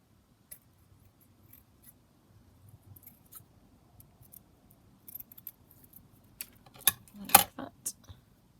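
Scissors snipping small bits off a handmade paper craft tag: sparse, quiet close cuts at first, growing busier with a louder cluster of snips and handling clatter toward the end.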